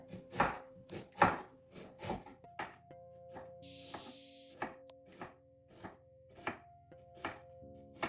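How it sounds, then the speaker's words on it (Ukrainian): A knife chops steadily through onion on a cutting board, slicing it into half-rings, a rapid run of thuds at first, then slower, evenly spaced cuts, close and clear. "я її перерізаю пополам і нарізаю півкружельцями"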